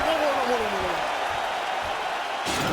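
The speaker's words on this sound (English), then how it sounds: "the crowd voicing its appreciation after that round" Crowd noise after a knockdown round at an MMA-style fight event, a broad steady wash of applause and cheering throughout, with commentary voices over it and a sharper burst near the end.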